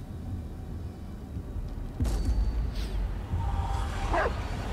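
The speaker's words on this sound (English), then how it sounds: "Don't just bark for no reason." A dog yips and whimpers in the Blair Witch horror game, a few short barks and a rising whine over a low rumbling background, fairly close and with no talk.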